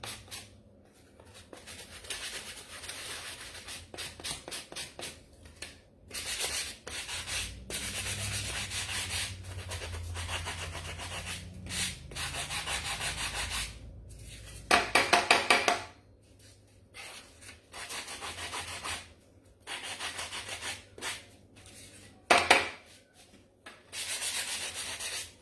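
Sandpaper rubs over the wheels of a handmade wooden Christmas toy truck in close, steady back-and-forth strokes, coming in bursts separated by brief pauses.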